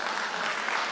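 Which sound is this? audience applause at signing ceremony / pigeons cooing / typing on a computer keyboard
audience applause at signing ceremony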